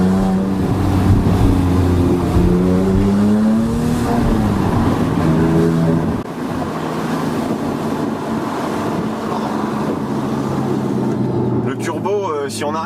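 A Porsche 997 MKII Carrera with a SCART exhaust revs loudly, its engine note sweeping up and down in the first half before settling into a steady rumble, with a sharper burst near the end.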